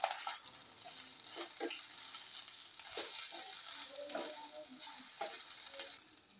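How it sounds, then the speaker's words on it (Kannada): Egg fried rice with red chilli sauce, soy sauce and vinegar sizzles as it is stirred in a pan, with a steady frying crackle and repeated scraping and clinking of the spoon, close and fairly quiet. "ಇವಾಗ ನೋಡಿ ಎಲ್ಲನೂ ಚೆನ್ನಾಗಿ ಒಂದು ಮಿಕ್ಸ್ ಕೊಟ್ಕೊಳ್ಳೋಣ"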